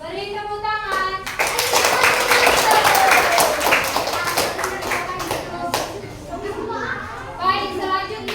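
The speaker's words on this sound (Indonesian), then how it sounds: "Beri tepuk tangan." Schoolchildren in a primary classroom clap together in a loud, rapid burst lasting several seconds, with a teacher's and children's voices before and after.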